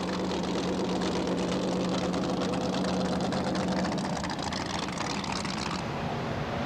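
Dragon Lady, a Great American Series racing powerboat, makes a test run with a loud, steady engine drone and a rough, throaty rumble that shifts pitch partway through as it heads out.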